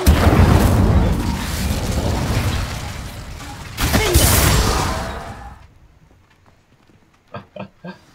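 An Incendio fire spell bursting in Hogwarts Legacy, a loud roaring whoosh with a second surge midway before fading, then a few quiet footstep-like taps.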